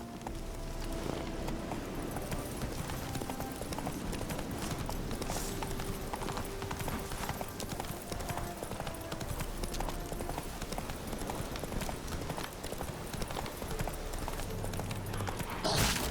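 Hooves of Roach, a horse in The Witcher 3, clip-clop steadily against a busy game backdrop of music and ambience, continuous and moderately loud with no pauses.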